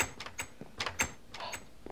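A door in Minecraft snaps shut, producing a series of short wooden clacks and clicks within two seconds, fairly quiet and without voices.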